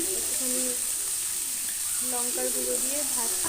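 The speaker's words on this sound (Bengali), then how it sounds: "তো এখানে বাঁধাকপি একটুখানি লঙ্কার গুঁড়ো দিয়ে ভাজছি" Cabbage frying with chili powder in a pan, a steady close sizzle under faint, tonal voices in the background.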